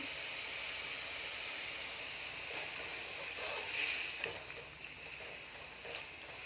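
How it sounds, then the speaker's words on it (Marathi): Water boils steadily in a pan for pithla, a gram-flour dish, with a continuous close hiss and soft bubbling, growing slightly livelier midway; no voices. "पाण्याला आता उकळी यायला लागलेली आहे"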